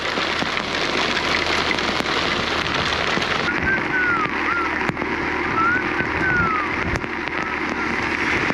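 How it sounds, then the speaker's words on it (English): Heavy rain falling during a long motorcycle ride on a Kawasaki Concours 14, a dense steady hiss of rain filling the scene throughout, with faint whistling tones drifting over it midway. "The rain kept falling and falling and falling."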